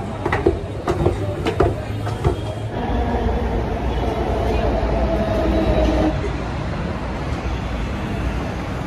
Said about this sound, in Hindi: मेट्रो स्टेशन पे आ गई हूँ